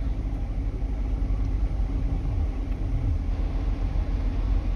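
A Chevy Corvette C7 idles with its exhaust set to stealth mode, giving a steady, low, muffled rumble close by with no voices.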